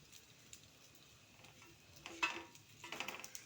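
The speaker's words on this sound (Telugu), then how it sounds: "ఓహో ఎండి చేపలు ఫ్రై చేస్తున్నారు అనమాట" Dried fish frying in a pan at home, a soft sizzle under faint stirring and scraping, with brighter clatters and crackles toward the end, quiet and close.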